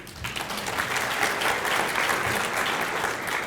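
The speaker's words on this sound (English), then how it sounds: "So give yourself an applause, please." Audience applause fills a Hall of Fame awards ceremony at the Kansas Sports Hall of Fame, a steady, dense wash of many hands clapping throughout, fairly close and sustained with no pauses.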